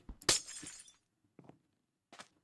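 A glass block breaking in a video game, one sharp shattering crash followed by a couple of softer, brief clinking hits, close and clear with no talk.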